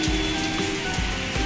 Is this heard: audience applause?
no